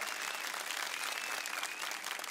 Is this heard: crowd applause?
yes